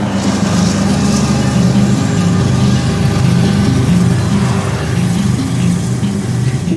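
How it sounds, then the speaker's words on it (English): A CSX freight train hauling empty coal cars gives off a loud, steady, deep diesel rumble that continues unbroken throughout, with no voices over it. "This is CSX E319 pulling empty coal cars for Indiana, marking the second train of the day that has spawned randomly on this line."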